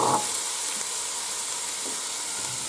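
Carrot, potato and onion sautéing in a hot pot give a steady, close broadband sizzle and hiss, with a brief thud as the vegetables drop in at the start.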